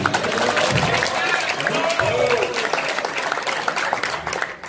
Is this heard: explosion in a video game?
no